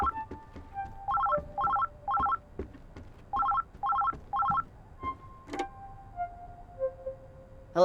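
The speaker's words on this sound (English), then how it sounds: "Phone? Where's the phone?" A telephone rings in the Oxenfree II video game, sounding in about seven repeated electronic trilling bursts with short gaps between them, fairly close and clear, followed by a couple of softer tones.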